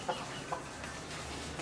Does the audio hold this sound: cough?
no